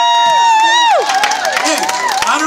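An audience at a live music performance cheers loudly, with a long, rising whoop and shouts followed by crowd noise and clapping, close and energetic.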